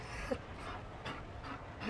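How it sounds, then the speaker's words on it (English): A Mabari war dog pants in the video game Dragon Age Inquisition, with quick rhythmic breaths repeating steadily and close, fairly soft, heard alone without speech. "You found a dog. They don't breed Mabari in Olay."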